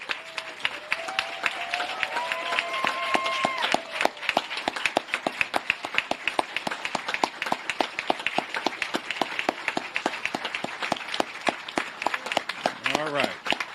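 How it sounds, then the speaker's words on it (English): Dense applause from a veterans ceremony audience, a steady wash of many hands clapping over most of the stretch, with a voice and some tonal sounds audible near the start. "Please join me in giving them a warm round of applause and gratitude for their courage,"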